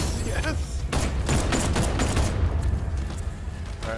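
Gunfire in the video game Batman Arkham Knight, a flurry of close, rapid shots clustered in bursts over a loud action soundscape with game voices mixed in.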